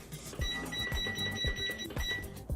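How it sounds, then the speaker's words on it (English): A digital timer is set during a synthetic wig restoration, giving short, high electronic beeps in separate bursts over a soft, rhythmic low background. "So we're just going to set that on my timer right here."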